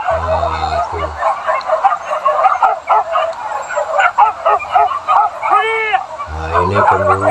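Hunting dogs yip, whimper and bark excitedly just before being released on a boar hunt, a steady, close chorus of dog voices throughout, with a voice briefly audible.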